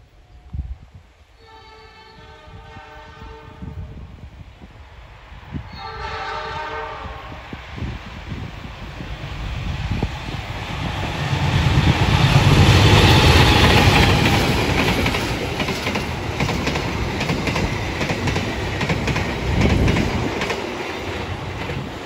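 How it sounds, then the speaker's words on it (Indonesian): A four-car panoramic passenger train leaves Solo Balapan station. Two horn blasts sound first, then the rumble and clatter of the wheels builds to a loud peak and stays strong as the cars roll past. "Dari arah utara ada 4 rangkaian panoramik yang lepas dari stasiun Solo Malapan di"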